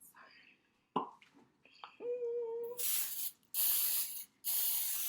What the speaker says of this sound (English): Oh, let's spray this.